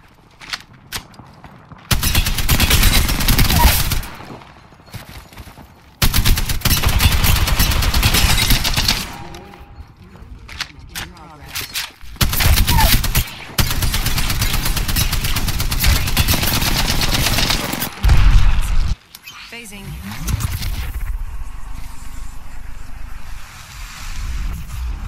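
Rapid automatic gunfire in the Apex Legends video game, heard as loud sustained bursts of several seconds each separated by brief pauses, with sharp single shots between them and a softer rushing noise at the end.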